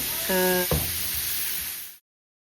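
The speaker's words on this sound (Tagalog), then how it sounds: "So we'll go ahead and add our chicken." Chicken goes into a hot pan and sizzles loudly and close, with a brief thud and clatter as it lands, then a steady hiss that abruptly cuts off after two seconds.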